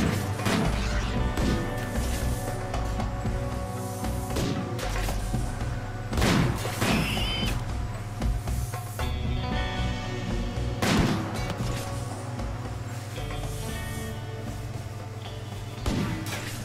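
Sniper rifle fire in the RimWorld video game during a raid on a colony's defenses, with sharp gunshot cracks and impact thuds repeating irregularly over a constant low game hum and a few scattered booms.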